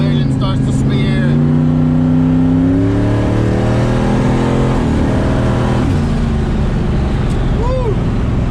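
A Ford Foxbody with a 427 stroker and a huge turbo accelerates hard, heard from inside, its loud engine drone rising in pitch through a gear before dropping, with voices briefly over the roar.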